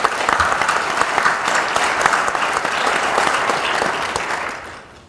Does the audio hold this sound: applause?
yes